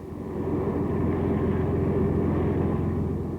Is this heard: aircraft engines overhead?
yes